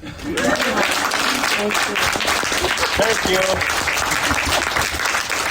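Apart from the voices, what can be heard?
audience applause after a movie screening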